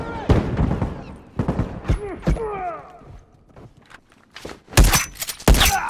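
Shotgun blasts in a video game ring out in sharp, loud bursts, a few separate shots with mechanical clacks between them and brief shouted voices in the mix.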